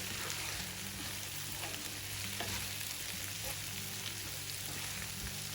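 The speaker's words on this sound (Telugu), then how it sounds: "మసాలా అంతా కలిసేలా ఒకసారి కలుపుకొని 1 నిమిషం ఫ్రై చేసుకోవాలి" Potato and capsicum fry with masala in a pan, producing a steady, fairly quiet sizzle with soft stirring scrapes and light spatter, heard close with no talking.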